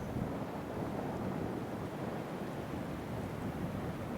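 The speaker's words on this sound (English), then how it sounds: "Quite breezy up here, so this will be a good test for the new wing canceller." Steady breeze buffets the microphone on an open hilltop walk along the Saxon Shoreway in Kent, a constant broadband rush that stays loud and unbroken throughout with no voices.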